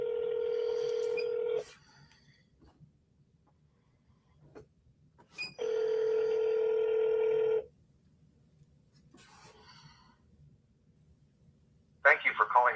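A telephone call plays out with touch-tone dialing followed by a steady tone for about two seconds that repeats after a pause, like a ringback, with brief clicks between. A burst of other sound comes at the end.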